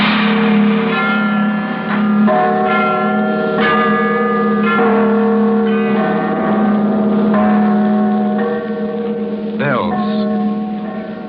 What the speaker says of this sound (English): Bells, and presently up the hillside, little dark knots of men began to appear.